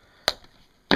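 Two quick, crisp snips from a cutter biting through a plastic zip tie, close and clear with a short gap between them.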